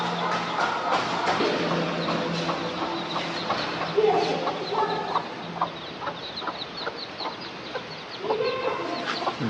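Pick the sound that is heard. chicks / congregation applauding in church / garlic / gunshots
chicks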